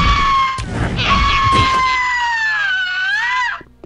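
Harpies screech in the video game Gothic, a loud, shrill, wavering cry that bends in pitch and holds for several seconds over busy game noise before cutting off.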